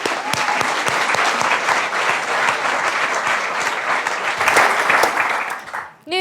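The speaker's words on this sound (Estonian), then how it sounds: "aplaus!" An audience claps at a student company award ceremony, the applause loud and continuous with distinct nearby claps, then tapering off briefly before the end.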